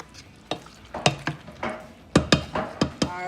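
Curry chicken made with Kingstonz curry powder is stirred in a pot, a spoon scraping and knocking the sides in a close, irregular series of clacks over a soft sizzle.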